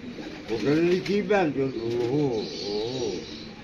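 Pigeons coo in throaty, warbling calls close by, overlapping in a rolling rhythm, with a faint rustle behind them.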